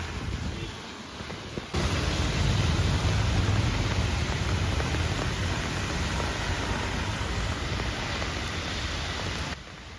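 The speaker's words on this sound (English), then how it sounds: "And this rain still continues." Rain falls steadily over a quiet residential street in the Mumbai suburbs, a broad even hiss that rises sharply after a quieter start and holds throughout.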